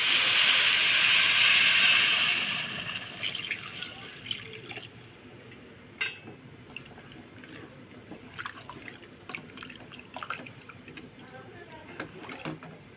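Water rushes steadily into a pot of rice and lentils for khichuri for about two and a half seconds, then settles into scattered drips and small faint splashes.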